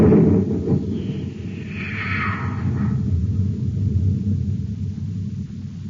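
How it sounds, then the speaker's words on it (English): A cosmic torpedo gun fires in a cartoon, giving a loud, sustained low rumble with a brief whooshing sweep through the middle of it, steady and continuous with no voices. "Fire the torpedo."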